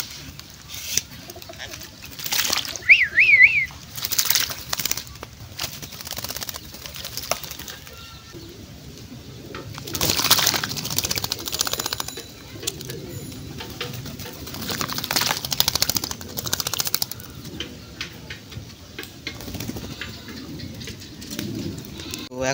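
Pigeons bathing close by coo softly and beat their wings in loud flurries at intervals, with quieter stretches between and a brief voice now and then.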